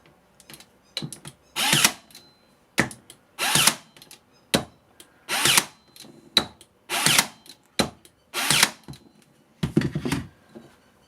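A 12V cordless nailer fires nails into pine repeatedly in loud sharp bursts with brief mechanical whirs between shots, close up, roughly a dozen impacts with no talking.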